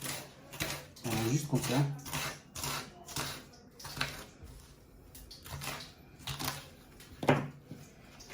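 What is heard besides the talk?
knife roughly chopping an onion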